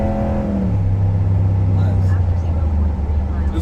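A 2023 Ram 1500 Big Horn Night Edition pickup truck's engine gives a deep, steady rumbling hum after a brief falling rev, loud and close, with people talking over it.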